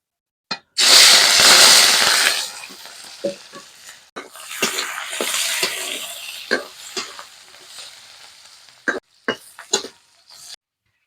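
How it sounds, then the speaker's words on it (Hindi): Chopped onion and chilli hit hot refined oil in a kadhai with a loud, bright sizzle that bursts out at once and then fades into softer frying, broken by sharp clinks and scrapes of stirring. "रिफाइन का तेल गरम हो गया, प्याज मरचा डाले जाते।"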